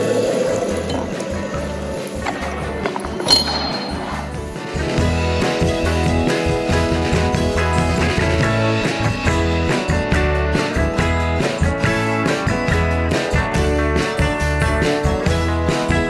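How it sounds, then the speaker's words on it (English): Hot water poured into liquid nitrogen inside a teapot, starting with a clink, then a loud, continuous bubbling, hissing boil with rapid tinkling churn that carries on steadily to the end. "next, we're gonna add in the hot water"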